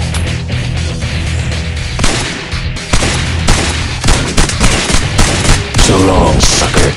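Video game gunfire in a shooter battle, loud rapid bursts and booming shots layered densely with explosions, close and continuous, with a character's voice speaking briefly over the fighting.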